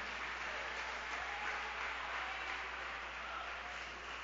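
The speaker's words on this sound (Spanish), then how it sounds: "Dale un fuerte aplauso, hermano, a esa porción bíblica" Congregation at a Spanish-language church sermon gives a strong, sustained round of applause, an even, dense patter of many hands that holds steady throughout with no talking over it.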